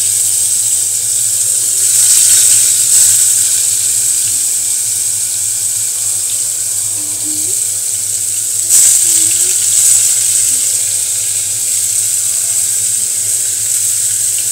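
Slices of pointed gourd (potol) frying in hot oil in a home kitchen, a steady, close hiss and crackle that holds evenly throughout with no talking.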